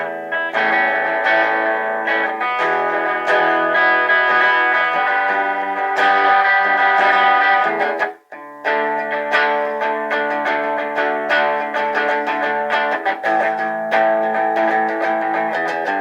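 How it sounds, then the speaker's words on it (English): A 2020 Epiphone Les Paul Classic electric guitar in worn purple, played through its bridge pickup with a clean, effects-tinged tone: ringing strummed chords and picked notes, loud and close, with one short pause midway and no talking. "Let's do the bridge pickup and get some better clean tones"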